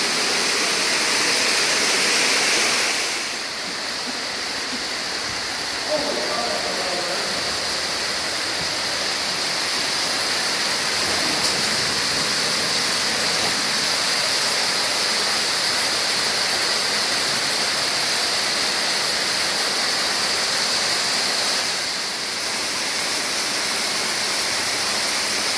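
A waterfall pours into the bottom of a cave pit, a loud, constant rushing roar that fills the space and holds steady throughout with no voices.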